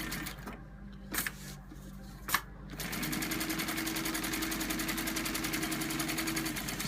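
A sewing machine sews with a steady, fast mechanical whir while winding the bobbin, following a few short bursts and thumps before it settles into a continuous close hum.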